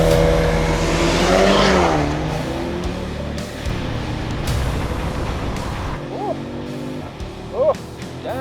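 A 2026 Audi S3 sedan with 245 kW quattro drive accelerates hard, its engine note climbing through a rising rev sweep, then settling into a steady cabin drone with a shift and a brief burst of noise near the end.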